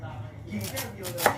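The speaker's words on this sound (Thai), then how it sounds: "แล้วก็เอามาหั่นเป็นแว่น" A knife slices peeled taro into rounds against a board, a few crisp slicing strokes in quick succession, close and clear.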